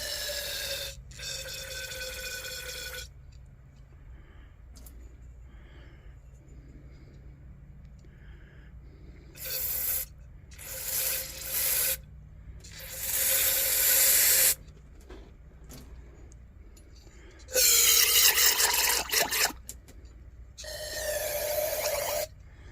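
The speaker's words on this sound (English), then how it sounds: "I'm just going to spray some carburetor cleaner in here" Carburetor cleaner sprayed from an aerosol can into a Coleman L427 lantern part held in a vise, coming as several hissing bursts of a few seconds each, close and fairly loud, with quiet pauses between.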